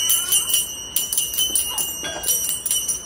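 A small metal hand bell rings in quick, fairly regular strikes, about a dozen bright clangs with ringing overtones that overlap, loud and close, with no voices.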